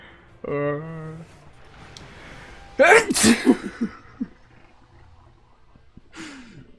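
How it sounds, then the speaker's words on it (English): A sharp, loud human sneeze bursts out mid-stream during a Sekiro playthrough, a brief explosive blast followed by a few quick trailing sniffs and breaths, with a voiced sound just before it and a short vocal noise after. "I have to sneeze so bad."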